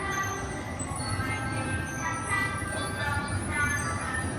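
An electronic toy train ride in a park, heard as faint mechanical running with bell-like ringing over a busy outdoor background. Soft voices drift in the distance.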